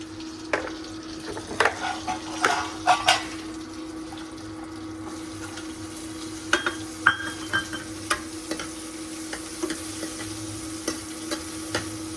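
Green chillies and onion fry in a pan as tempering for a pumpkin curry, with scattered clinks of stirring and a soft sizzle over a steady background hum, and no talking.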